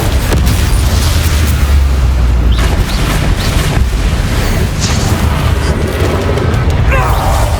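Confringo blasting spell explosions in the Hogwarts Legacy video game, repeated loud booms and bursts over a rumbling battle mix, with voices shouting in the game.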